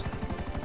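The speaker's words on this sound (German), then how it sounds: "da ist wieder ein Helikopter bei euch" Helicopter in the video game GTA 5 Online, a rapid rhythmic thumping of rotor blades, loud and close, pulsing evenly through a short burst with no speech.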